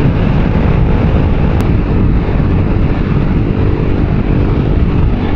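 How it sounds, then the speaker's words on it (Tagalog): Constant heavy wind buffeting the microphone, a dense low roar that stays loud and steady throughout with no voices. "Lakas ng hangin."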